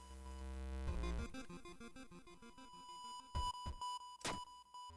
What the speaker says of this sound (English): No matter what you do, the beeping continues.